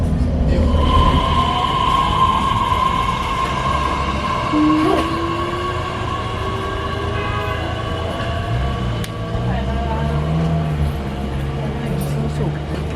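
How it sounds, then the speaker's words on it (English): An electric Chicago Transit Authority rail train rumbles steadily during a ride, with a whining motor tone rising and falling over the track noise while people talk onboard. "we're just getting on a train going right back. Because we still want dinner, and I still want more electric train content"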